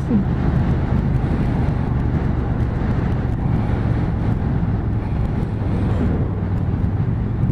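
A KTM 1290 Super Duke R 2018 motorcycle cruising in third gear at about 2000 rpm, its engine a steady, loud low rumble mixed with continuous wind noise from start to finish, no voices.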